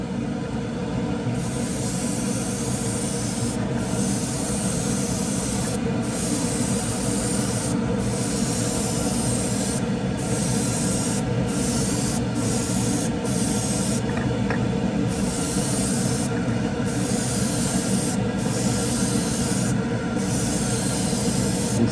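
A spray gun lays a light coat of 2K automotive clear onto a model car, hissing continuously at close range in a steady, even stream with brief pauses between passes.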